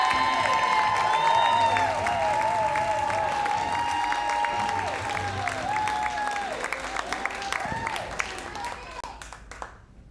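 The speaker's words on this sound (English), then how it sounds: "big round of applause for Toni Feldmann." Comedy club audience applauding and cheering as a stand-up comedian is introduced, steady clapping that gradually thins out while faint talk runs beneath.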